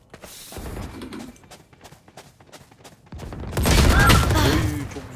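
Gunfire sprays in the video game Valorant: a scatter of short shots, then a loud sustained burst near the end. Faint voices talk in between.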